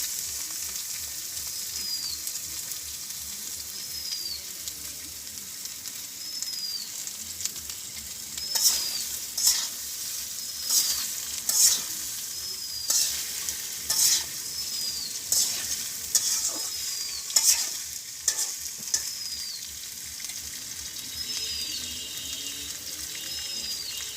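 Taro stolons frying in a pan give a steady close sizzle. Water runs in the background, and about midway a run of rhythmic scraping stirs begins.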